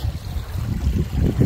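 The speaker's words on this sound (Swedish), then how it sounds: "Det ligger massa stenar där, det är porlande vatten." Water babbles over many stones beneath a plain wooden bridge far up in northern Sweden, a steady close low gurgling wash with no voices.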